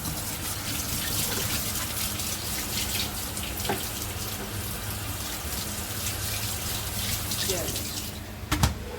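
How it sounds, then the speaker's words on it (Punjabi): Cold water pours steadily from a tap over boiled macaroni in a continuous, rushing gush, with a brief splash near the end. "ਠੰਡਾ ਪਾਣੀ ਛੱਡਾਂਗੇ ਉੱਤੇ"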